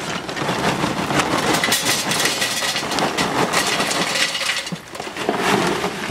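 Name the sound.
charcoal poured into a chimney starter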